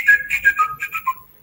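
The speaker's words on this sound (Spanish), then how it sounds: "si yo silbo con algo en la mano, con algo que interfiera el sonido se proyecta" A person whistles a short, bright melodic phrase of several quick notes, loud and close, holding something in the hand that shapes the tone, with no talk.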